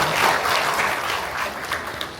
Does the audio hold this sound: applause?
yes